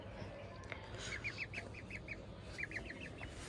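Rooster and hen clucking in short rhythmic bursts, two quick runs of repeated calls that sound faint and somewhat distant over a low background hiss.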